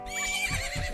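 A horse in Zelda: Majora's Mask gives a single short, loud whinny, close up, under a layer of game music with faint hoofbeat thumps.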